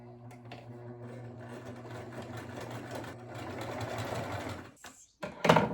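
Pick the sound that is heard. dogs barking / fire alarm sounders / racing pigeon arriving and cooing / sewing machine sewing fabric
sewing machine sewing fabric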